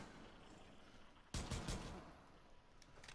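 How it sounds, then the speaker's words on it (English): Gunfire in Rainbow Six Siege, a short burst of rapid shots cutting in sharply over quiet game ambience, then faint scattered follow-up noise. "Okay, they're shooting me."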